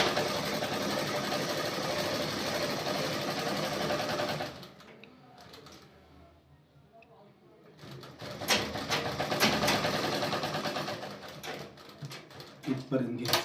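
A sewing machine stitches a lined top, running steadily and loudly, pausing briefly, then starting again with uneven bursts while someone speaks.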